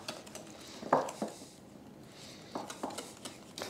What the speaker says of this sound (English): And just whisk until the mixture turns fairly smooth.